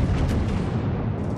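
A heavy, rumbling full broadside from a German battleship's main guns in a naval warfare video game, a dense booming roar that holds through the whole short moment with no talk.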